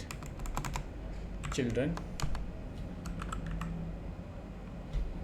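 Typing code on a computer keyboard: rapid, close clicking keystrokes in irregular bursts under a man's soft speech, with a brief quiet pause before more key taps.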